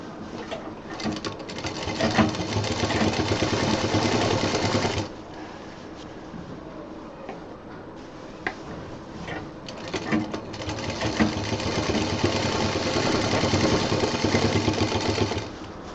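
A sewing machine stitches the border of a homemade college bag in two long, steady runs of rapid whirring, pausing for a few seconds in between with quieter handling noise, close and loud.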